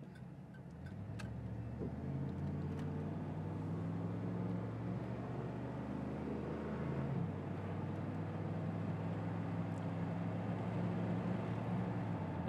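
Steady low engine drone and road hum from a 1993 Chevrolet Camaro Z28 Indy Pace Car cruising at about 60 mph, a constant tone that shifts slightly partway through, with no talk.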